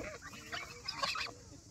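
Geese honking close by in the Gilan countryside in summer while bread is scattered for them, several nasal honks overlapping over soft background noise.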